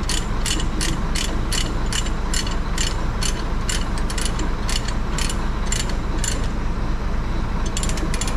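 A ratchet tightens a fastener in rapid, evenly spaced metallic clicks, close and distinct over a steady loud rumble of wind or engine noise.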